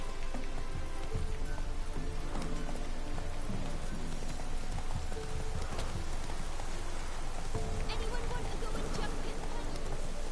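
Horse hooves clip-clop steadily during an evening ride in The Witcher 3, layered under a constant rain-like wash and game ambience, with someone talking over it throughout.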